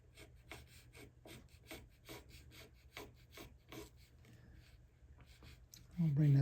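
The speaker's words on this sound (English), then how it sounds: "I like the longer chisel for this." Chisel carving wooden guitar top braces, repeated short scraping strokes in a steady rhythm, close and fairly quiet, ending with a louder bump.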